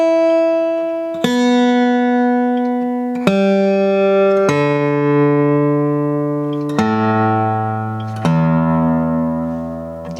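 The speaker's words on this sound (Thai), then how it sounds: "ตั้งเสียงก่อน" A plucked steel string on an acoustic guitar rings out repeatedly, its pitch shifting between plucks as it is tuned, each note sustaining and fading alone.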